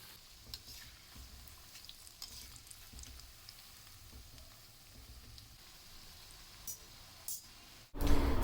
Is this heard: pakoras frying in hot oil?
yes